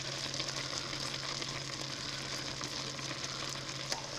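A whole chopped onion and about a tablespoon of minced garlic cooking in a pan for beef tips and gravy, a faint, even sizzle with a low steady hum underneath and no talk.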